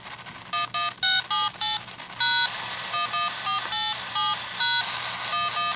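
A rapid series of short electronic beeps from a Motorola radio keypad as frequencies are punched in, some pitched differently, with brief gaps between them over a low background hum.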